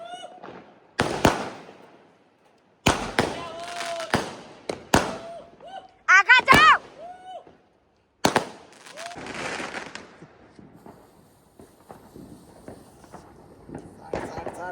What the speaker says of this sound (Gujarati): ટેટા ટેટા ફોડ્યા